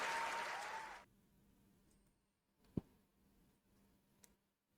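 A single person claps for about a second, a close burst of applause that cuts off abruptly into near silence, broken by a sharp click and a fainter tick later.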